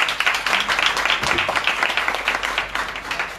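A church congregation at an outdoor prayer meeting claps in thanks, a dense, steady burst of many hands applauding together, loud and close.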